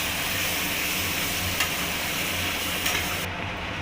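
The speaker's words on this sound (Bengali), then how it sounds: "সর্ষে পোস্তটা দিয়ে দেবো ওর মধ্যে দিয়ে ভালো করে নাড়িয়ে দেবো" A mustard and poppy seed paste is stirred into a pan of pabda fish curry, giving a continuous loud sizzle and hiss with faint scraping. Near the end the sound drops suddenly, and no one speaks.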